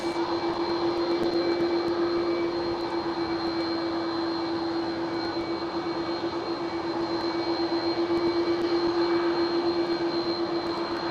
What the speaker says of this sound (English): we do have a Delta Airlines A330 Neo right here, and ITA taking off